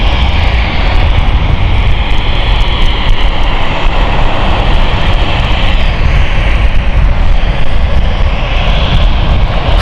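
A jet aircraft at London City Airport roars loudly and continuously at close range, a heavy, steady engine rumble and whine that fills the whole stretch with no pause.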